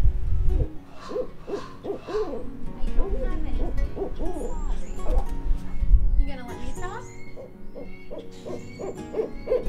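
A barred owl at a New Jersey bird rehabilitation center gives a run of rhythmic hoots that rise and fall, close and loud. A person talks over part of the calls.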